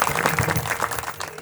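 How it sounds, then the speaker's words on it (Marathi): Audience clapping together at a Marathi kirtan, a dense, steady burst of applause that carries on through the short moment with no voices over it. "एकदा टाळ्या वाजा बरं सगळेजण"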